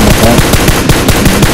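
Rapid automatic gunfire from the PUBG Mobile battle royale shooter, a loud, dense burst of back-to-back shots filling the whole moment with no talk over it.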